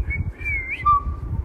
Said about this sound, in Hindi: चल प्यारी सी सीटी बजा दे